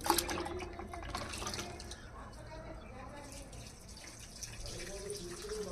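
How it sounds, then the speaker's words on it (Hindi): Water splashes and trickles steadily as it is poured onto garden plants in the morning, a close, continuous flow, with voices talking over parts of it. "पेड़ पौधों में पानी डाल रहा है।"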